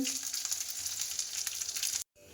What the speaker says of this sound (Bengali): পটলটাকে ভেজে নিচ্ছি